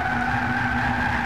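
Race car tires skid in a racing video game, a loud steady squeal with tonal whine held over engine rumble throughout.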